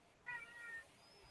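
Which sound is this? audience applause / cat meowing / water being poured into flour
cat meowing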